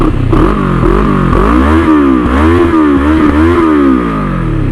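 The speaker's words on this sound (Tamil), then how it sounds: "எக்ஸாஸ்ட் சவுண்டை பாருங்கள்" A Moto Morini adventure motorcycle idles and blips its exhaust close by, a loud, rhythmic engine note rising and falling in repeated revs with no talking.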